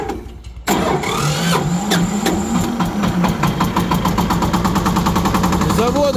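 A small green 24 hp tractor engine cranks and catches after a brief quiet moment, then settles into a loud, steady, clattering diesel-like idle up close.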